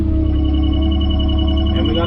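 Telephone ringing during frost-footing digging on a Windham mountainside homestead, a steady electronic warble sustained loudly over a low engine-like drone.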